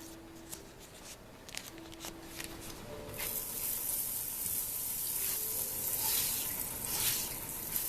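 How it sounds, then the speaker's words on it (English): Butter melting in a hot skillet begins to sizzle, a rising steady hiss with a few scrapes and clicks at first, close and moderately loud without any talk. "I want to kind of butter my skillet"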